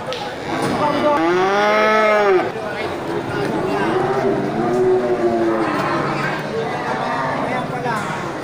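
Large Simmental cattle being unloaded give a loud, drawn-out moo near the start, followed by lower, quieter moos, with background noise and people talking around them.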